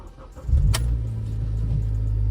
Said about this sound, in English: we're actually going to start the car